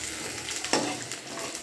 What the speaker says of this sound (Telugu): కడాయిలో ఫ్రై చేసుకోవాలి.